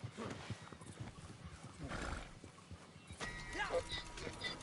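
A donkey steed in Red Dead Online brays and whinnies amid hoof clip-clops, fairly close and lively, with someone talking over parts of it.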